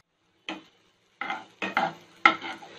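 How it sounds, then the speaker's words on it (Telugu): Onions and green chillies stirred in a hot pan, four short bursts of scraping and sizzling separated by brief pauses, close and moderately loud. "ఆనియన్స్ ఫ్రై చేసుకుందాం."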